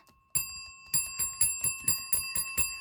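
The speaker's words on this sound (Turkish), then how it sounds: "Aa zil sesini duyuyorum." A bright bell rings repeatedly in an even rhythm, about seven quick strikes with ringing tones lingering between them, close and clear.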